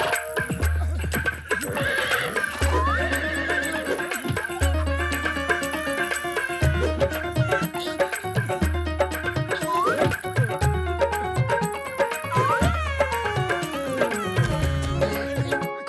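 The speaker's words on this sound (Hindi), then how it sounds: "ये घोड़ा तो बहुत खतरनाक है।" Cartoon horse in the Motu Patlu series, a robotic horse, whinnies in loud bursts over a steady pounding gallop rhythm and busy background music, repeating throughout with no talking.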